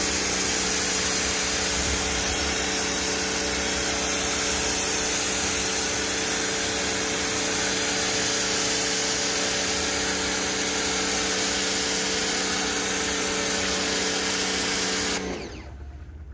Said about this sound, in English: Did I spray too much soap?